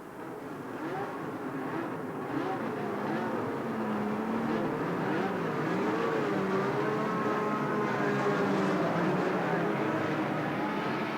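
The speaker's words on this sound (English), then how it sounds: "So the engines came to life, and the Grand Prix year along with them" 1982 Formula One turbo and non-turbo race cars, including Renaults, Ferraris and Brabhams, rev their engines at the start of a Grand Prix, a rising, overlapping roar that swells steadily beneath a narrating voice.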